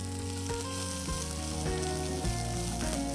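Freshly chopped onions sizzle steadily in a hot pan while cooking for an Indian breakfast, with a busy, crackling fry and occasional clinks of stirring, loud and close.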